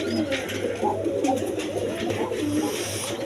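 A pair of Nun pigeons coo close by in soft, repeated low burbling calls, continuing steadily over a faint background hum.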